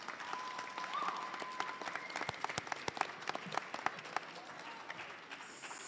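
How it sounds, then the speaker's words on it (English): Audience applause fills an awards ceremony for career and technical education students, a steady wash of clapping with sharper individual claps standing out, moderately distant and fading slightly toward the end. "Let's clap for that."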